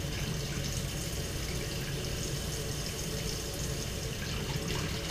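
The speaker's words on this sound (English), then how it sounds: "the water coming out of the end of this" Cold tap water pours out of a hose end in a constant close hiss and splash, running steadily and unbroken throughout.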